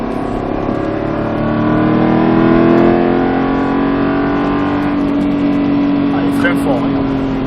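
Car accelerating on a track, a steady engine drone rising gently in pitch at close range, with a voice talking over it.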